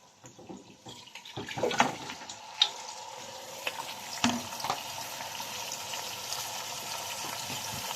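Raw beef tipped into a hot frying pan where browned aromatics already cook, setting off a rising sizzle with a few sharp clatters and stirring sounds, then a steady frying hiss, no voices.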